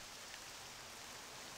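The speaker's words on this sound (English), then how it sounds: "The rain is purple!" Steady rain in the video game Octopath Traveler 2, a soft, even hiss of falling drops that stays faint and constant throughout, with no voices over it.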